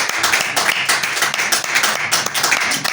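A church congregation applauding as an offering of praise, with loud, steady clapping from many hands and a few rhythmic accents throughout.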